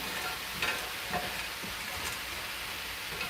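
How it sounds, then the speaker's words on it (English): Steady, crackling sizzle of frozen vegetables and mushrooms frying in a hot pan, a continuous close hiss with small pops throughout, no talking. "You can hear it sizzling."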